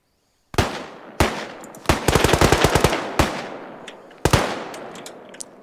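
Gunfire in the Arma 3 military shooter, with loud single shots and a rapid automatic burst from a machine gun, spaced cracks and echoing tails, close and alone without talk.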